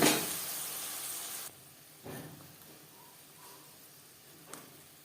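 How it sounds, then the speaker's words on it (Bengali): Tomato paste hits hot oil in a pan for a vegetarian cabbage curry, starting with a loud burst of hissing sizzle that drops after about a second and a half to a quieter simmering fry with a few soft stirs. "15-20 সেকেন্ড ভেজে নেওয়ার পর দিয়ে দেবো টমেটো পেস্ট।"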